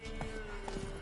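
Brief hoofbeats from a ridden horse in The Witcher 3, a few spaced clops over a steady tonal background with a hint of voice.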